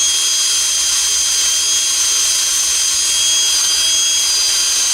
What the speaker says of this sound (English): drill with your wire brush, or just a wire brush